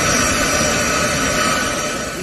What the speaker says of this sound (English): we have C-17 Indian aircraft, Indian Air Force plane, which has landed in Kingston today